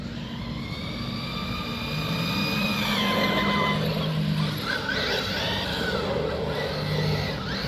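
A Redcat Valkyrie MT RC monster truck on 2S power drives on a damp, drizzly surface, its electric motor whining in rising and falling pitch sweeps as it speeds up and slows, moderately close and steady throughout.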